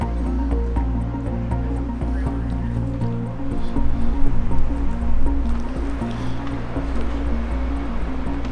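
A truck drives through a creek on an old gold rush trail, engine droning low under continuous splashing and sloshing water, swelling louder midway, with no clear talk.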